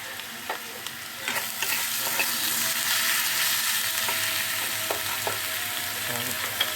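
Chopped tomato goes into a hot pan of spiced oil and sizzles loudly and steadily up close, with crackles and a few light stirring knocks. No one speaks over it.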